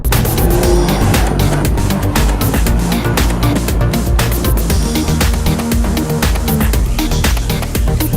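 Audi TT RS sports car accelerating hard, its engine roaring loud and continuous with tire noise throughout, no talking.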